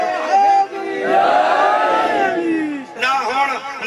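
A crowd at a religious gathering chanting a slogan in unison, loud massed voices rising and falling in two bursts, close and reverberant.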